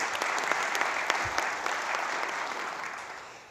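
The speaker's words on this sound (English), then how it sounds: "let's give all these panelists a round of applause before their presentation" Conference audience applauding panelists at an emerging-markets panel discussion, a sustained wash of many hands clapping that slowly thins and fades toward the end.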